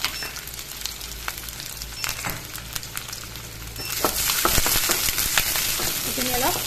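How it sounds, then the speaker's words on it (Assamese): Onion, garlic and green chillies frying in hot oil for a bitter gourd and small fish dish, a continuous close sizzle with stirring scrapes that grows louder and busier partway through. "তেল দিছোঁ, তাৰপিছত দিছোঁ পিঁয়াজ, দুটা নহৰু দিছোঁ, তাৰপিছত দিছোঁ কেঁচা জলকীয়া দুটা"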